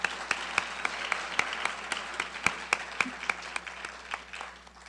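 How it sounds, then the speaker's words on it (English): Audience applause at a hall of fame weekend competition final, a steady patter of many hands with sharp individual claps standing out, moderately distant and fading slightly toward the end, with no talk over it. "Can you give him another round of applause,"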